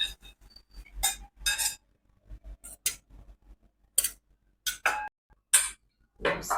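Cooked fenugreek leaf vegetable is scooped from a pan into a small bowl in a short burst of close spoon scrapes and metallic clinks, separated by quiet gaps.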